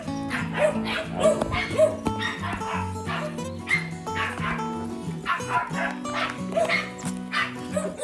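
A dog barks and yips repeatedly over steady music, the barks close and sharp, recurring throughout with a few whimpering notes.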